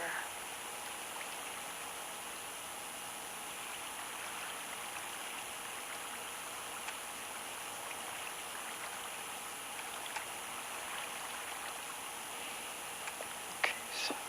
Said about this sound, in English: That's river.